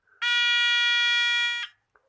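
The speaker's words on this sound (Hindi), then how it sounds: "देखिए पहले की निस्बत अब ये ज़्यादा देर तक ऑन रह रहा है बजर" A PIR motion-sensor theft alarm buzzer sounds one loud, steady piercing tone for about a second and a half, then cuts off, with a faint click afterward.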